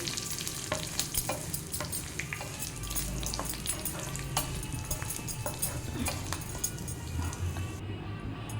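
Mustard seeds, cumin, urad dal and dried red chillies fry in a pan, giving a dense, steady sizzle with frequent crisp pops and stirring clicks throughout.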